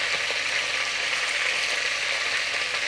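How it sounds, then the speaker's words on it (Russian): Garlic fries in a pan with a steady, even sizzle and hiss that holds throughout, close and fairly loud, with no talking. "Сначала нам нужно обжарить чесночок хорошенько."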